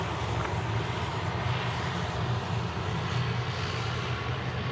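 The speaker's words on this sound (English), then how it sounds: "Got Air New Zealand on screen now going Queenstown," An Air New Zealand Airbus A320 at Sydney Airport gives a steady, broad jet roar, loud and unbroken, heard from a distance with no voices.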